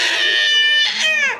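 A Baby Alive toy doll cries in loud, close, high-pitched wails, a couple of short rising and falling sobs that stand out clearly on their own with no talk over them.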